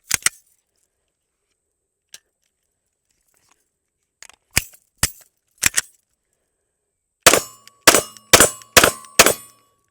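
A SIG M18 9mm pistol fired in a string of sharp, loud reports: scattered single shots at first, then four quick shots in a row at the end, with metallic ringing after them.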